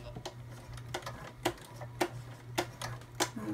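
Sewing machine stitching over a zipper with a metal end while making a sunglasses pouch, giving a steady low hum with a few sharp, evenly spaced clacks, close and fairly quiet.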